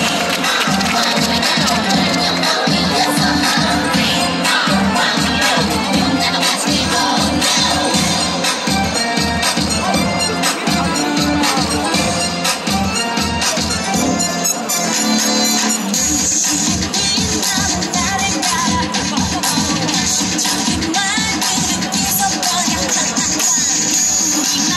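A packed baseball stadium crowd at the 2021 LG Twins semi-playoff Game 3, loud and continuous, with rhythmic group clapping and cheering that swells and then settles into a dense roar.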